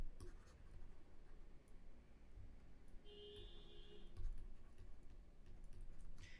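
Handwritten notes are scratched out with a pen on paper, a continuous faint scribbling with small ticks and strokes, close and quiet, with no talking.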